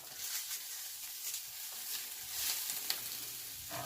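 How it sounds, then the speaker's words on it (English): Cabbage added to browned onions sizzles in a pan, a soft steady hiss with faint stirring sounds, close and fairly quiet with no talking. "now that my onions are nice and browned, what I'm going to do is I'm going to throw in my cabbage"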